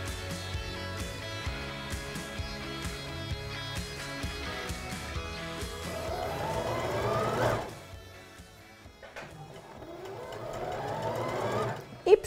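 Sewing machine stitching a band around the neckline of a knit sweatshirt, a steady mechanical whir with rhythmic needle clatter that slows briefly, then picks up again and swells toward the end.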